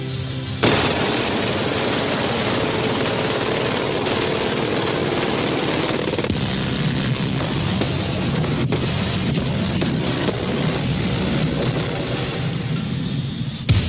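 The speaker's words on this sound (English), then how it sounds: "We'll be showing and shooting the widest array of machine guns ever assembled" Machine guns fire continuously at close range, a dense, loud roar of automatic bursts running almost the whole length with only brief changes in texture and no voices.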